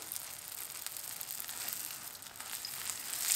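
Vegetables fry in hot oil in a pan, giving a steady, bright hiss and crackle that builds slightly toward the end, close and unaccompanied by voices.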